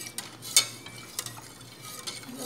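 A spoon stirs a cooking mixture of banana, sugar and fresh milk in a pan, giving a few light scrapes and clinks over a soft, faint simmer.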